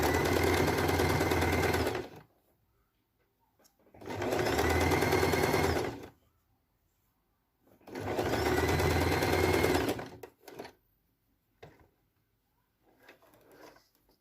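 A sewing machine stitching the closing seam of a patchwork quilt runs in three steady bursts of about two seconds each, close and loud, separated by pauses with faint handling noises.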